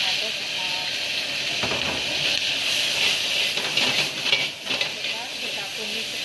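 Tomatoes frying in a little hot oil in a pan for a tomato omelette, giving a steady close hiss and sizzle throughout that rises slightly midway, with a voice speaking over it.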